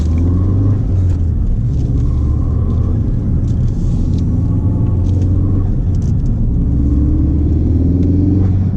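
A 2017 Ford Focus RS in race mode drives along with a loud, steady engine rumble, a continuous deep drone heard from inside the car with no talking.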